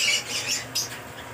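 Yellow Fischer's lovebirds at a breeding farm in Santragachi, Howrah, give a few harsh, shrill squawks in quick succession, close and loud over a faint background.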